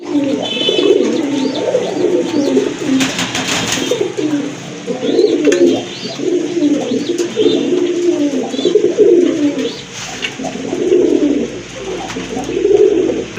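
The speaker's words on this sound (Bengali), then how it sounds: "এই যে দেখেন আরেক জোড়া গোটা কবুতর" Pigeons coo in repeated low, throaty phrases close by, with a few faint clicks and rustles in between.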